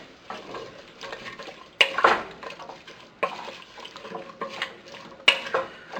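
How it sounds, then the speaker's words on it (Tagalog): A spoon stirs a pot of beef stew with potatoes and vegetables, giving wet scraping and clinking strokes of metal on the pot, with sharper knocks near the start, middle and end; close, moderately loud, no talking. "haluin lang muna natin ito"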